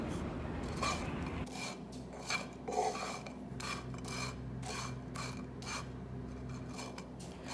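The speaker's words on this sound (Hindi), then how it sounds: "बिल्कुल हल्की आंच पे हमें अपने ब्रेड के पीसेस को रोस्ट करना है और चमचा चलाते रहना है" A spoon scraping and stirring bread pieces roasting over a very low flame in a pan, with repeated rasping strokes in an uneven rhythm, close and fairly clear.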